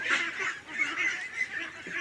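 A flock of about 105 ducks in a netted home yard honk and quack together in a continuous, busy chorus at moderate distance.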